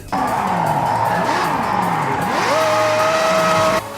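A car drifting in Forza Horizon 6, engine roaring continuously under long screeching tire squeal that bends in pitch, then settles into a sustained high skid tone before cutting off.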